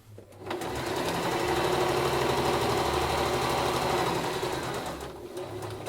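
A sewing machine runs a continuous stitching seam down both side seams of a fabric drawstring bag, a rapid, steady mechanical whir close by that starts up, holds for several seconds and slows at the end.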